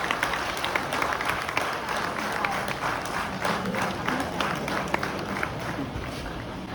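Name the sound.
audience applause at a college Teachers Day program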